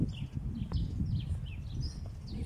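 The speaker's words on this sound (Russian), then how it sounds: "Птички." Small birds chirping in Treptower Park along a Berlin riverside embankment in spring: light, scattered high tweets repeating over a steady low rumble of outdoor background noise, with no talking.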